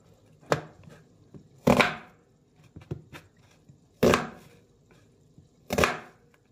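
A knife chops through vegetables (red and yellow bell peppers, onion and tomato) on a board in a home kitchen: five separate sharp, close strokes, spaced unevenly about a second apart, with nothing else audible around them.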